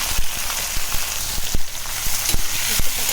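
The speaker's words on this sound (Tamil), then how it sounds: "கலந்துடுங்க நல்லா வதங்கட்டும் நல்லா நல்லா இந்த அளவுக்கு வதக்கி வச்சுக்கோங்க" Eggplant sautéing in hot oil with mustard seeds, curry leaves and salt, a loud, dense sizzle broken by irregular knocks and scrapes of a spoon stirring in the pan.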